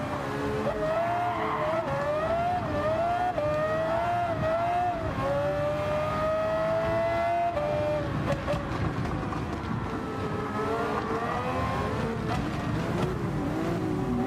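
An F3500-A race car's high-revving engine in Gran Turismo 7 holds a steady whining pitch, rising and dropping with gear shifts, continuous and loud, with tire squeal mixed in.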